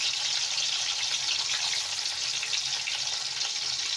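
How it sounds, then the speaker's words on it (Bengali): Fish pieces fry crisp in hot oil, a dense, even sizzle that holds steady and fairly loud from start to finish with no other sounds. "এবার এগুলোকে আমি বেশ কুড়কুড়ো করে একটু ভাজা করে নিই।"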